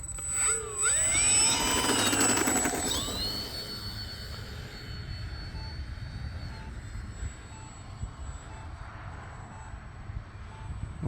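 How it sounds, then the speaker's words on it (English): A small model airplane's engine whines loudly at takeoff from a runway, its pitch sweeping upward and then falling away into a steady, more distant drone, with wind-like noise under it. "We're gonna take off and see if I can get a much better landing."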